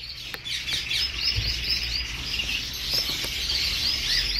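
Pair of Catarina (lineolated) parakeets chirping in a bird shop, repeated quick high chirps and tweets at moderate distance over a low steady background hum.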